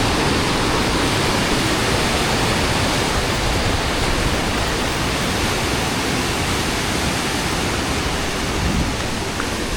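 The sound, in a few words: water flowing through channels cut in rock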